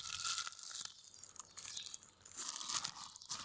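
Plastic bags crinkle and rustle up close as salted fish (fesikh) is packed and wrapped with the air pressed out, in quiet bursts of crumpling and tearing.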